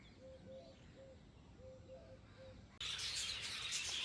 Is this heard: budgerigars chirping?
yes